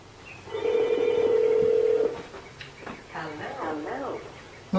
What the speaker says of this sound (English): you can hear the house ringing